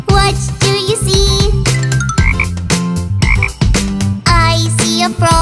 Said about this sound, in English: I see a frog. Ribbit, ribbit, ribbit.